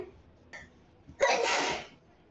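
A single sharp sneeze, preceded by a quick intake of breath, in an otherwise quiet room.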